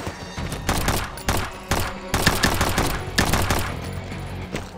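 Sharp, loud gunshots in the battle royale shooter Combat Master, a run of quick single shots and short bursts spaced irregularly, close and punchy, no speech.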